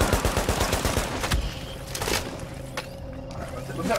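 Rapid gunfire in The Division during a firefight, fast bursts early then scattered shots over continuous battle noise, loud and near.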